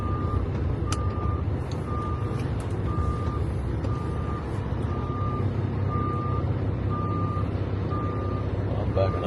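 Steady, evenly spaced reversing beeps ring out from a hauling truck backing up under a scrap-yard magnet in Kentucky, sitting over a loud, constant diesel engine rumble for the whole stretch.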